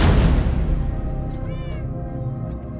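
Cat meowing in the Minecraft video game, several drawn-out meows that follow a loud opening burst and stand clear over quiet game background.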